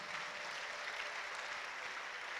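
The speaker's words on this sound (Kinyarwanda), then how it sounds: "tugukomeye amashyi menshi mu izina rya Yesu." A church congregation at a revival gathering claps together in a dense, even burst of applause that sounds somewhat distant and stays steady throughout.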